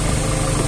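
A Honda CB150R motorcycle engine is held steady at 3000 RPM during a charging-system voltage check. It gives a brief, even, close hum with a low throb and no speech.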